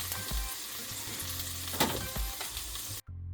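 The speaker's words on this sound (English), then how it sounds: "You can fry it as crisp as you want or as brown as you want." Homemade skinless sausages fry in a pan with a steady, close sizzle and occasional crackles and pops, no talking, before the sound cuts off abruptly near the end.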